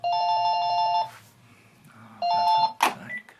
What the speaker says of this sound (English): I wish that person would stop bloody ringing